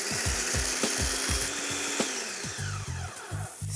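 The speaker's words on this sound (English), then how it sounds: "I have my little food processor here, it does the same thing" A small food processor grinds toasted spices in a close, gritty whir, with rapid rattling pulses of hard bits knocking around the bowl that settle into a steadier churn toward the end.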